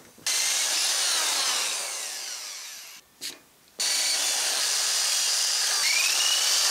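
A drill bit grinds through a steel transfer case mount plate for a 1950s Chevy/GMC Napco 4x4, a steady high whine that stops briefly midway, gives a short burst, then resumes and runs on.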